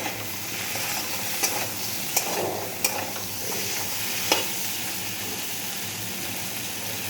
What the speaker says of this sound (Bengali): টমেটো, লঙ্কা, এটা ভাজা ভাজা করলাম